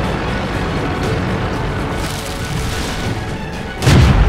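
A tank cannon fires in World of Tanks, one loud, deep boom near the end of a steady low engine rumble.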